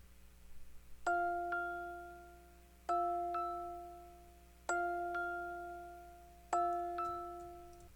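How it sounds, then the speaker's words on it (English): A delicate, chiming music-box melody repeats a short bell-like phrase four times, clear and fairly soft over a faint background hum. "I have this cool music box that comes in throughout the choruses"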